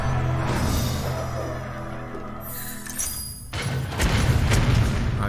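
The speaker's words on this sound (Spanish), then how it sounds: "A ver a dónde van los tiros." Muffled booms and bursts of gunfire crackle through a dense, noisy Hearthstone game soundscape, with a sharp cut midway and a louder burst near the end.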